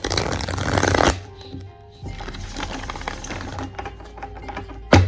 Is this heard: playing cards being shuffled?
yes